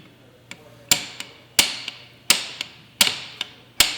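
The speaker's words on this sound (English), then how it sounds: "I'm going to use my hammer." Hammer blows on a steel mandrel driven inside a bent pipe, a series of about five sharp metallic strikes spaced under a second apart, each followed by a lighter tap, close and clear with no talking.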